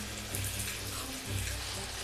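Water is poured straight into the corners of a tarantula enclosure, giving a soft, steady trickling splash that holds at a fairly quiet level throughout.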